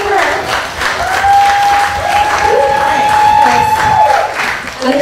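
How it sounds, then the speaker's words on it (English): Loud, sustained clapping from a crowd, with cheering voices and a long whoop rising over the applause. "Clap it for her."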